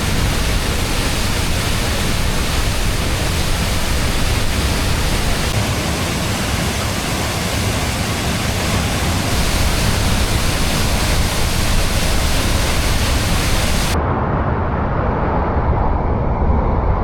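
Tuasan Falls in Camiguin pours with a powerful, unbroken rushing roar that stays loud and steady throughout and turns duller near the end. No voices are heard.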